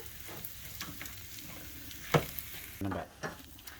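Chicken fried rice being stir-fried in a pan at home: a quiet sizzle with intermittent scraping stirs and a couple of sharper knocks of the utensil against the pan.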